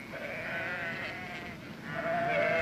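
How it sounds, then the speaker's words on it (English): A mother sheep bleats in the Australian bush, with steady, fairly loud wavering calls that swell again near the end over a constant outdoor background. "Looks like that's a mother sheep."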